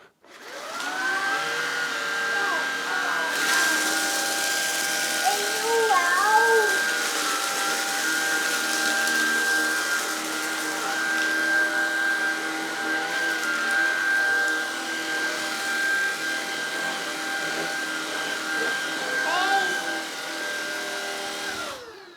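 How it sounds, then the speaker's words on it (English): A Shark IZ251UK cordless vacuum cleaner on its second setting runs over carpet with a steady, loud motor whine and a high tone, its pitch shifting slightly as it moves, with no voice over it. "The brush roller will spin faster because of course we're on the carpet."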